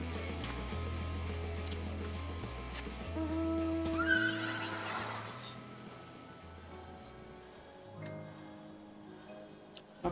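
Horse neighing with hoofbeats in the video game Final Fantasy XIV, heard over steady game music with a brief whinny near the middle.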